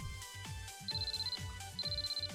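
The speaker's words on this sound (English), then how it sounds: "So the phone in my pocket suddenly starts ringing." An electronic phone ringtone plays in a Japanese dating-sim video game: a repeating melodic pattern of short plucked notes with a high beeping buzz layered in bursts, loud and clear with no talk.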